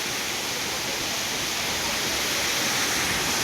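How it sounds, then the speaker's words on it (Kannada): Honnamma Devi Falls in Chikmagalur, India, roars in a loud, unbroken rush of falling water that fills the whole scene without pause. "ಇದುವೇ ಹೊನ್ನಮ್ಮ ದೇವಿ"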